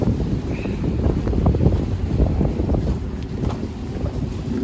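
Steady wind roars and buffets the microphone over a low, continuous rumble of the sea at a windy pier on the Bostanlı seafront in İzmir, with no voices.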